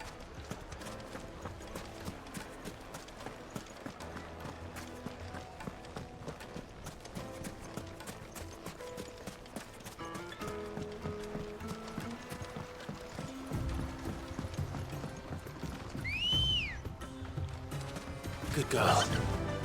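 A horse in the Final Fantasy 16 video game gallops with rapid rhythmic hoofbeats throughout, over a game score, with a neigh near the end and a voice speaking briefly.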